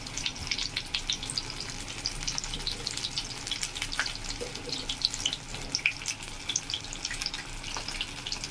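Battered cauliflower pakora frying in hot oil, a loud continuous crackling sizzle with dense popping bursts throughout, close up with no voices.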